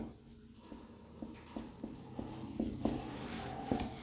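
Chalk or marker writing on a board in a ninth-grade classroom, a run of soft scratching strokes and taps that come in short irregular bursts, close and fairly quiet with no talking.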